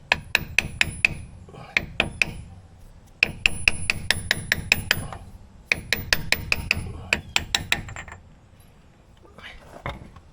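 Rapid, steady hammer strikes on a 36 mm deep socket on a Yugo ring out in long runs of sharp clangs, close and loud, with brief pauses between the bursts.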